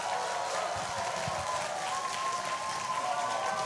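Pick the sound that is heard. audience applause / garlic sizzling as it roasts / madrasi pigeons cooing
audience applause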